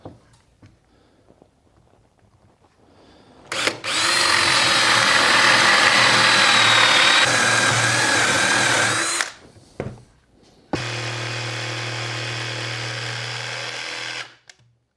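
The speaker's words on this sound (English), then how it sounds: "Now I can drill that out and then cut it with a jigsaw." Power drill boring a hole in hardwood during a closet renovation, two sustained high-pitched whining runs of several seconds each, loud and close, with no talk.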